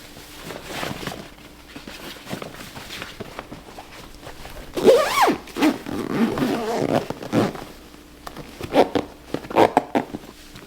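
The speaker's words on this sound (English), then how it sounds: "I'll zip her up." Zipper on a LoveSac couch cover being pulled closed, a burst of rustling, scraping zip strokes in the middle of the clip amid fabric handling noise, close and moderately loud.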